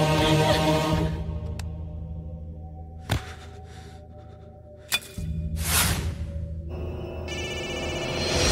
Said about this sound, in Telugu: ఫోన్ ఎత్తడేట్రా